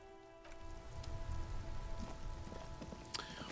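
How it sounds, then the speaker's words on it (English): Steady rain falling in the video game Disco Elysium, a soft continuous patter with faint droplet detail, alongside low tonal game music and occasional small clicks. "It's raining again."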